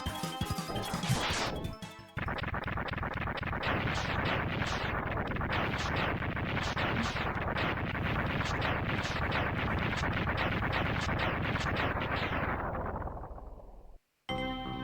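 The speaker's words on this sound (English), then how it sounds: "I always love the explosion effects in the X games" Explosions in the video game Mega Man X2 go off as a long, dense run of loud, rapid crashing blasts, one after another for about twelve seconds. A brief break comes early, and the run cuts off near the end.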